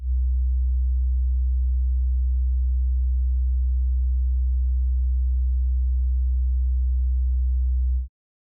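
A steady, deep 63 Hz test tone hums at constant loudness for about eight seconds, then stops abruptly. There are no other sounds.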